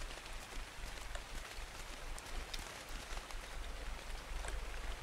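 Rain falls steadily across an outdoor scene in the video game ARK: The Island, a quiet, continuous hiss with scattered drop ticks and a low rumble, no voices over it.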